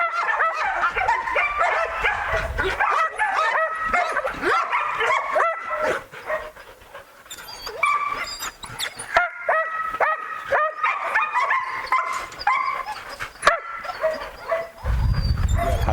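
Belgian Malinois dogs on a breeding farm bark and yip in a steady, busy stream, with whimpering tones mixed in and brief quieter gaps before the noise picks up again.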